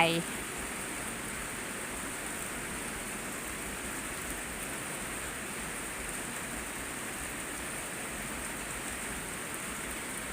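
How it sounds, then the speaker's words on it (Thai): Steady rain pours at the back of a farm near Phu Lek Fai in Ban Kok Kok, a dense, even hiss that stays at one level throughout with no break or voice above it. "นี่แหละค่ะบรรยากาศ บรรยากาศวันฝนตกอีกแล้ว"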